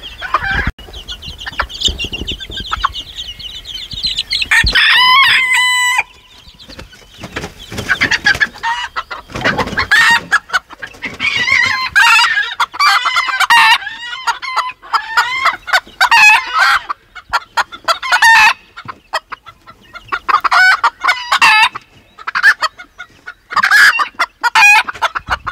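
A white rooster on a rural farmstead crows loudly and close, followed by a long run of repeated clucks and squawks in uneven bursts, with no voices over it.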